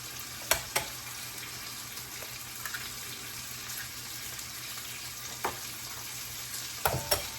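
Almond flour and baking powder stirred together in a mixing bowl for a breakfast soufflé: soft, steady scraping with a few sharp clicks of the utensil against the bowl, close and fairly quiet, with no talking.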